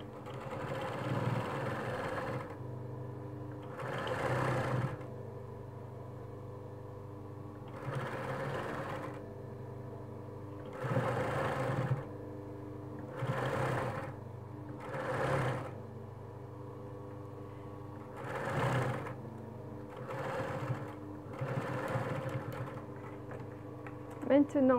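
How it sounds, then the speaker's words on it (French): A sewing machine stitching three fabric pieces of a bulk bag at once, running in repeated short whirring bursts of a couple of seconds with brief pauses between, close and steady. "Je couds toutes les pièces, 3 pièces en même temps."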